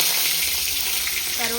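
Fennel seeds drop into hot oil in a kadai and crackle in a steady, close sizzle throughout a short moment.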